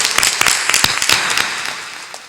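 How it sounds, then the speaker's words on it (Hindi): An audience at a religious gathering in Dholpur, India claps loudly, a dense burst of applause with sharp individual claps that thins out toward the end. "ताली बजा दो जोर से।"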